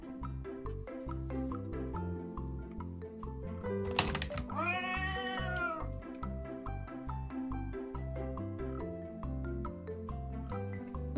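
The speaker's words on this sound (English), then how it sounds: "play cat noises" Recorded cat meows played back from an Alexa smart speaker: a drawn-out, wavering meow rises clearly in the middle, sitting over steady background music at a fairly low level.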